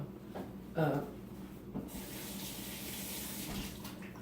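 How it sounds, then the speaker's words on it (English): Tap water runs into a kitchen sink as hands are washed while salmon croquettes are prepared, a steady broadband rush that continues throughout after a brief louder splash near the start. "So I'm gonna wash my hands real quick."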